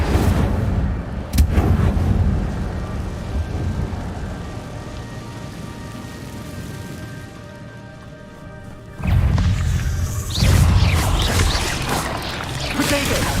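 Repeated Incendio fire spells are cast in the Hogwarts Legacy video game, loud crackling whooshes and bursts over a rumbling battle din, with a fresh flurry of impacts toward the end.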